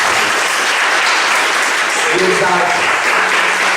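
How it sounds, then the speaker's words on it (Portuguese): Church congregation applauding during a worship service, a loud dense wash of clapping across the whole stretch, with a voice briefly speaking over it. "As nossas palmas engrandecem."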